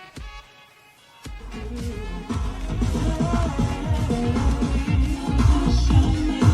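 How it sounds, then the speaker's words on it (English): A Bose car sound system with 10 speakers and 800 watts in a Mazda CX-5 plays music, starting quiet and then swelling into a full mix with heavy bass and rhythmic beats, no talking. "it's a Bose sound system"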